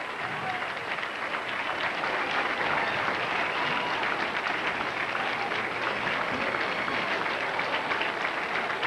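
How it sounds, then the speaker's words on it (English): A bowling tournament crowd at the 1995 Tums Classic bursts into sustained applause and cheering for the winner, a dense, steady wash of clapping that continues throughout, with voices mixed in. "Parents standing, proud, cheering."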